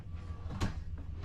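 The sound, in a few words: sink cover closing in Thor motor coach kitchen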